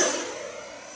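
A Horizon Hobby Viper 90mm RC jet runs at full throttle, its ducted fan giving a loud, steady broadband roar that fades slightly over the short stretch.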